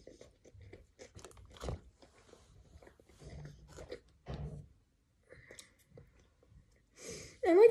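Close, quiet crunching bites and chewing on a Burger King Whopper with pickles, onion and lettuce, coming in short intermittent bursts between silences, ending with a louder noise.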